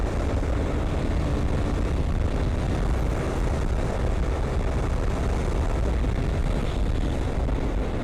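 Dense, loud motorcycle engine roar under acceleration with a quick shifter, a continuous close rumble with no clear breaks between gears.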